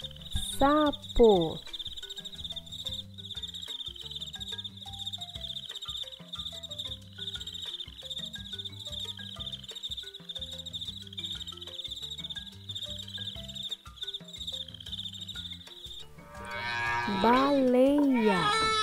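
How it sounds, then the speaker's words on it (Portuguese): A frog croaks in a steady, high, rapidly pulsing trill that runs continuously at moderate loudness over soft rhythmic background music, joined near the end by a brief squeaky animal call. "Sapo."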